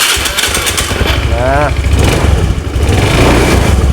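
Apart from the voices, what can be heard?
fuel-injected motorcycle engine running with a new spark plug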